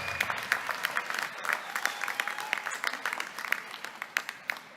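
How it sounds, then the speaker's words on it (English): Applause from a commencement ceremony audience, dense and steady clapping from a crowd, with a few sharper claps standing out throughout. "give them a round of applause"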